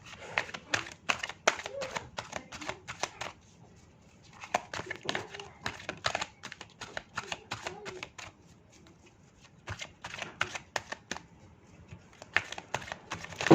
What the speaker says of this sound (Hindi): जब तक मैं कार्ड आपके शफल कर रही हूँ